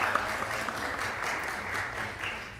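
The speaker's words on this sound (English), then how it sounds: "so you could give them another round of applause for that." Audience applause at the Tobago Day annual youth debate, a steady even wash of clapping from a crowd held at moderate level throughout, with no voices on top.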